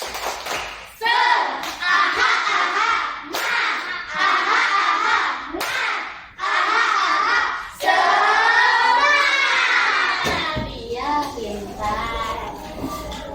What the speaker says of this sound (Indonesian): Coba Ibu cek semangatnya dengan tepuk semangat.